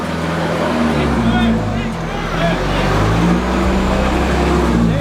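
A vehicle crosses a creek at Gunshot Creek on Cape York, its engine droning loud and steady and close by, with people shouting and talking over it.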